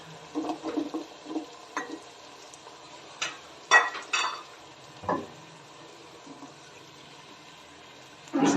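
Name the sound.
carrots frying in a pan with onion and tomato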